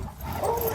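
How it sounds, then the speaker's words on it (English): Dogs at a farm bark and yip, a short burst of close, fairly loud barking with a whimpering edge. "Guys, too much barking."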